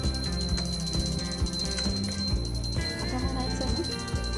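Ritual bells rung at home while welcoming Gauri (Mahalakshmi) during a Ganpati celebration, a continuous bright metallic ringing with a sustained high tone over dense layered clanging and festive background sound.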